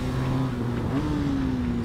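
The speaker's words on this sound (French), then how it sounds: "Le moteur manque un poil d'allonge" BMW GS motorcycle with a 1170 cc engine revving hard on a race track, a steady loud drone with rising and falling pitch, close and continuous with no talk.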